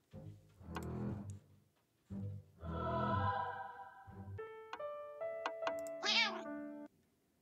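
Cat meowing in the video game Purring Quest, several short synthetic meows and tonal chimes in sequence, with game sounds between them and no talking.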